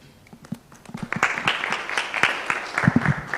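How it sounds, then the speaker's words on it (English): An audience begins clapping with scattered claps that build into steady, moderate applause from a crowd at a programme launch event. "That's why you're clapping the way you're clapping."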